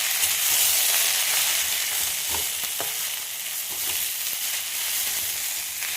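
Red amaranth greens drop into a hot pan of oil tempered with chillies, sending up a loud, continuous sizzle and crackle with occasional stirring knocks and no talking.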